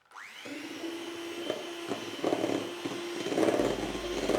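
An electric mixer whips meringue, a steady whirring hum that stays fairly quiet and close, with its pitch shifting slightly as the beaters work through the mix.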